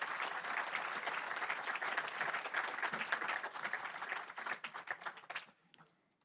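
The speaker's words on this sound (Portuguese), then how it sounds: "Rita, eu convidava-te, claro, a receberes uma salva de palmas e a sentar-te aqui." A room full of people applauds at a book presentation in Porto, dense steady clapping that breaks into scattered claps and dies away near the end.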